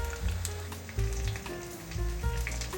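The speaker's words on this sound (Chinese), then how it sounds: "用中小火煎，因为里面的食材是熟的，慢慢把外皮煎成金黄色" A napa cabbage and potato cake pan-fries in oil over medium-low heat, a soft, close sizzle with light crackles, steady and fairly quiet, alongside some faint low tonal hum.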